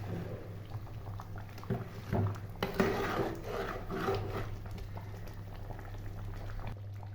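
Citron pickle thickened with jaggery simmers in a pan with a low, continuous bubbling burble, swelling briefly with a few louder gloops and a stir. No one talks.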